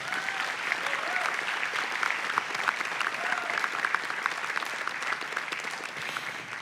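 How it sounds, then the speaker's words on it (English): Sustained crowd applause at a Mānoa awards ceremony, dense steady clapping from a large audience filling the room evenly at moderate level throughout. "How about another round of applause?"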